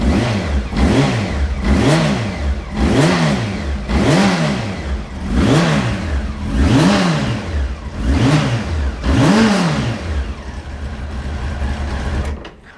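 A 1999 Honda CBR900RR RS Fireblade motorcycle engine, limited edition number 22 of 50 and low on fuel, revs about eight times in a steady rise-and-fall rhythm. It is close and loud, with no talk, and cuts off sharply at the end.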